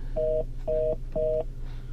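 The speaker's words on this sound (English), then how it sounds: "iPhone. Calling Tim Cook, iPhone" Three evenly spaced, loud electronic tones sound as an iPhone places a call through Siri on a Ford Sync 4.6 car system, with no talking.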